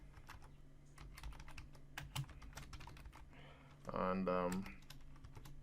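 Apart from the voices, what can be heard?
typing on a computer keyboard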